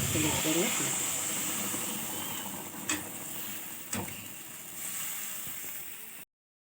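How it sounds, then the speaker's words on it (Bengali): Hot water poured into a pan of simmering tilapia curry cooked with mustard and poppy-seed paste: a steady, close sizzling hiss with bubbling, a couple of sharp pops, then the hiss gradually softens. "এবার আমি যে গরম জল করে রেখেছিলাম, গরম জলটা পরিমাণ মতো দিয়ে দেবো"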